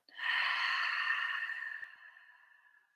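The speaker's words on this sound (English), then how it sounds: "a long breath out" A single long, breathy exhale during a meditation session, starting sharply and fading slowly over about two seconds, close and soft against silence.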